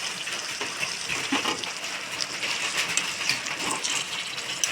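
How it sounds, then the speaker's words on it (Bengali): Water poured into a pot of braised mutton for biryani: a steady, close, continuous splashing gush with no pauses. "এর মধ্যে আমরা জল দিয়ে দেব।"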